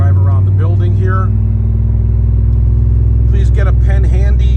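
A 1994 Pontiac Trans Am with a six-speed manual drives around a building, its engine a loud, steady low rumble close by, with someone talking over it.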